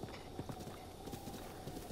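A horse in the Breath of the Wild game runs toward the player, its hooves clip-clopping in a quick, steady rhythm, fairly quiet and continuous with a faint whinny-like tone.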